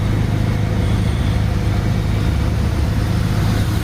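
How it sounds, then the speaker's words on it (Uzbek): A tuk-tuk auto rickshaw engine on an Indian street gives a steady, close, loud droning rumble mixed with continuous traffic noise, with no clear pauses. "Tuk-tuk."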